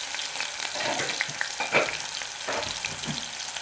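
Onions with tomatoes frying in a pan for Ugandan smoked fish in groundnut paste, a continuous close sizzle with a few soft stirring knocks and no talking.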